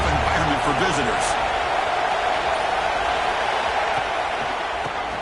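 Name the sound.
stadium crowd cheering at a college football game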